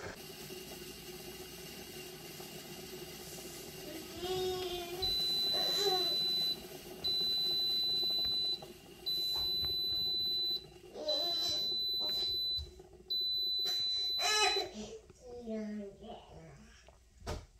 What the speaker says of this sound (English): It beeps when it's done blending.